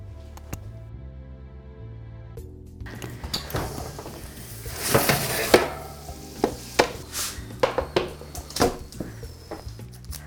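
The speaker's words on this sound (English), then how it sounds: "I'm just flipping each and every wedge to make sure they get golden on both sides" Roasted sweet potato wedges flipped one by one on a baking pan after 20 minutes at 425 degrees, giving a series of short scraping and tapping clatters, soft and irregular, growing busier midway with no talk.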